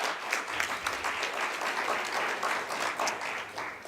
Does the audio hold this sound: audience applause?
yes